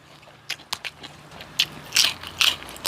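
Crunchy pickled bamboo shoot soup with pea eggplant is chewed up close, a series of sharp crisp crunches and wet bites spaced irregularly over a quiet background, with no talking.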